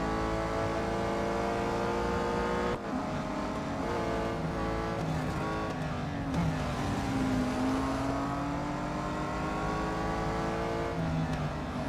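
Race cars in the Real Racing 3 video game roar continuously with steady engine drone, rising and falling pitch as gears shift and cars jostle during a lap, loud and close throughout with no talk.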